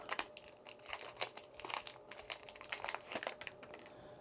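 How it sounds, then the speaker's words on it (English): An anti-static plastic bag holding an ELA-100 Ethernet surge protector is opened, giving quiet, close crinkling and crackling in irregular bursts throughout. "Comes in an anti-static plastic bag."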